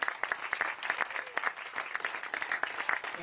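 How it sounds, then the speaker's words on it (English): An audience applauds veterans at a Mike Pence voter town hall, a brisk round of many hands clapping that stays fairly close and steady throughout. "can we have a round of applause for everybody that's worn the uniform?"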